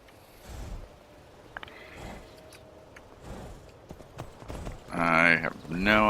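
A horse's hooves clip-clopping in the video game Skyrim, a soft rhythmic patter running under intermittent game noises, with a horse snorting or whinnying loudly near the end.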